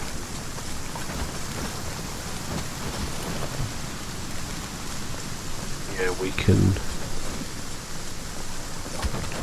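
Steady rain falls in the survival game Aska, a dense hiss with a low rumble like distant thunder, while someone speaks briefly over it.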